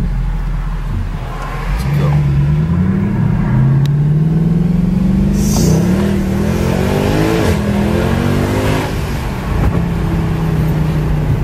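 A powerful sports car engine revs hard and climbs in pitch, rumbling loudly and close with repeated throttle blips and a deep growl throughout.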